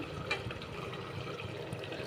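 Water is poured into a pot for tomato rice with a green chilli already in it, a continuous close splashing fill with faint bubbling, and no talk.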